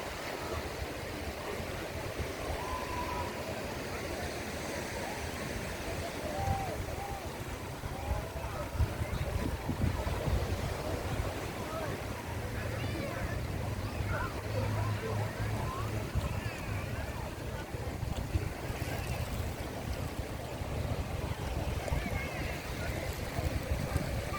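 Wind and surf at Nang Ram beach, a white-sand Thai shore with clear water, in the late afternoon: a steady broadband wash of waves with buffeting wind noise on the microphone, continuous and fairly loud throughout.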